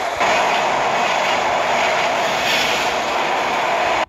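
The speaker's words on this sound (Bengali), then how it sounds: "মনে হচ্ছিল যেন পদ্মা সেতুর উপর দিয়ে ট্রেনটি খুবই দ্রুত গতিতে চলে গেল।" A train crosses the Padma Bridge at high speed, a loud continuous roaring rumble close by, steady throughout with no talking.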